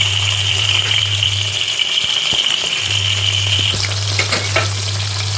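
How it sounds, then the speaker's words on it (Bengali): Shrimp lowered into hot oil for a light fry on both sides, producing a loud, steady close sizzle with a few brief clatters and a shift in tone partway through. "গরম তেলের মধ্যে চিংড়ি মাছগুলো আস্তে আস্তে ছেড়ে দেবো"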